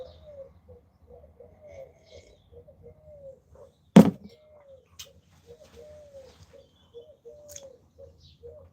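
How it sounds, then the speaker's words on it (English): A pigeon coos in repeated soft, rising-falling calls at a steady rhythm, close by, broken once by a sharp loud thunk like a door knock midway. "Pigeon."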